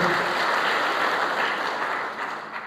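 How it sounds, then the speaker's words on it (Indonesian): A church congregation bursts into full, continuous applause, a thick, even roar of many hands that stays loud and then eases slightly near the end. "Tepuk tangan terbaik buat Tuhan"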